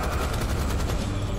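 Rapid gunfire in Rise of the Triad (2013) rattles loud and continuous, a dense burst of overlapping shots with no pause over a brief moment.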